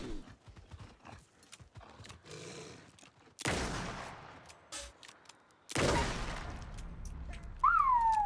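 A few loud gunshots from a gun in the video game Alan Wake II, two heavy blasts with decaying tails and some sharper reports, standing mostly alone.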